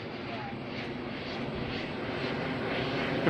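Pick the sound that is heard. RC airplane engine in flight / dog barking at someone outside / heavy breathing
RC airplane engine in flight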